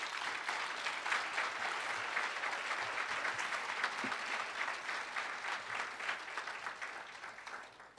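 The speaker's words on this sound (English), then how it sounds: "if you could raise your hand and we give them a round of applause" An audience at a community unity dinner applauds students, sustained dense clapping from a room full of people that holds steady for several seconds and then begins to fade, with no voices.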